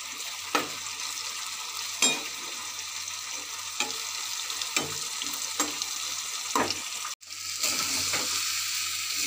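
Bitter gourd slices, pre-rubbed with salt and turmeric, frying in a pan, giving a steady broadband sizzle with a few sharp stirring clicks spaced every second or two and a brief dropout near the end, no talking.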